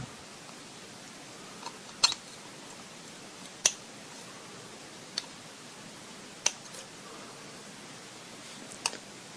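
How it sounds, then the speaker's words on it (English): Scissors or wire cutters snip the leftover coil wires on a Genesis-style rebuildable atomiser: several sharp, quiet clicks spaced a second or two apart over faint background hiss. "with some scissors or some wire cutters"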